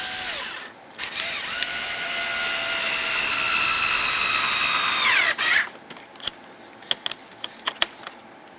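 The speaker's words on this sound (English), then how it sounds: "This little drill driver ain't the best in the world, but it gets the job done." A cordless drill whines steadily for several seconds as a bolt is driven, then winds down, followed by scattered clicks and taps.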